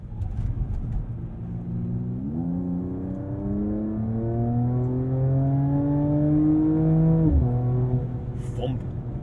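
Mercedes-AMG with its AMG Performance exhaust revving in sport mode, 429 horsepower, the engine note climbing steadily in a loud, close run before dropping sharply on an upshift and building again.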